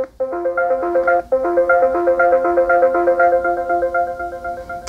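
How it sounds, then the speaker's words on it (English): Sonim XP8 rugged Android phone plays its wake-up chime, a bright synthesized melody of stacked, stepping tones that starts, cuts briefly, restarts and rings steadily for several seconds, close and loud with no talk. "we've got the usual Sonim wake-up sound"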